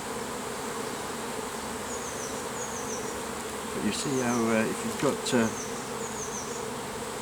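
Honeybees swarm and buzz steadily around a hive at a bee farm, a dense continuous drone close by, with people talking briefly over the hum.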